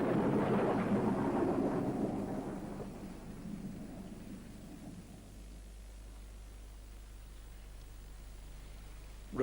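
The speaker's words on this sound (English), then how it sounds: "with showers of sleet, thunder and lightning," Heavy rain and thunder from an August 1845 storm in Ireland: a deep rumble rolls loudly at the start and fades into a steady hiss of rain that continues to the end.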